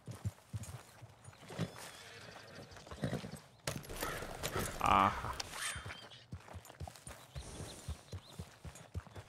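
A horse walks in the video game Red Dead Redemption 2, played on a RedM roleplay server, with a steady clip-clop of hooves running under a voice as he talks and exclaims.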